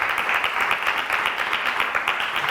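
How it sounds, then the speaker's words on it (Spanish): Sustained applause from an audience at the close of a lecture session, dense and even, moderately loud, without clear individual claps standing out. "Un último aplauso para vosotros."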